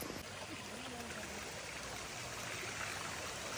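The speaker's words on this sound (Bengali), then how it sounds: "কি সুন্দর জলটা আসছে এখান থেকে। ও পেছনে ঝর্ণা" Steady rush of water flowing from a spring-fed waterfall at an outdoor picnic spot, a continuous broadband wash with no pauses.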